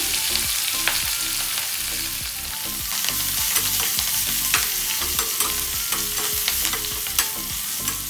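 Asafoetida, curry leaves and coriander crackle and sizzle in hot oil in a pan for a tomato gojju, with repeated scraping stirs over a steady close fry and no voices.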